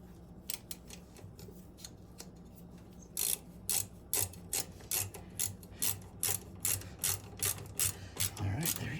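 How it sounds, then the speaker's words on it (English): A ratchet driving a part into a travel trailer, a series of quick rhythmic clicking bursts, close and crisp, starting after a quieter stretch of handling noise. "so I could screw this in."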